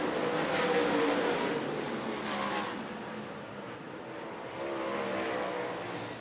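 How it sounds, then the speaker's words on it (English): Several dirt track race cars roar around the oval together, a loud continuous engine drone that swells and dips as they pass, with no talk over it. "Peterson now coming up behind several good race cars."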